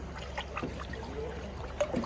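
Water trickles and pours quietly as Rooh Afza syrup is mixed into a drum of water outdoors in summer heat, a soft, steady liquid stream with a few splashy bursts near the end.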